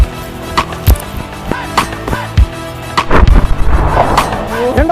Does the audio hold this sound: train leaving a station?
no